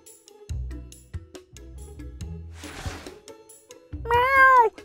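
A farm cat meows several times with gaps between calls, close and clear, the last meow longer and rising.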